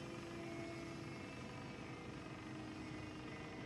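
De Havilland Twin Otter twin-turboprop engines in the RealFlight 9.5 flight simulator, a faint, steady droning hum with a constant whine, unchanging over the few seconds.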